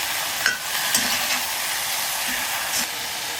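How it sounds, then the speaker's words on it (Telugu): Marinated chicken with salt, chili, turmeric, coriander powder and ginger-garlic paste frying with onions in a pan: a steady close sizzle broken by a few sharp scrapes of stirring, no talking. "ఇప్పుడు చికెన్ని ఫ్రై చేసుకోవాలి"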